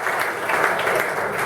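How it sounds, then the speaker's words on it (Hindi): Students in an audience at a motivational talk clap together in loud, sustained applause, a steady dense patter with no pauses. "ताली बजाओ"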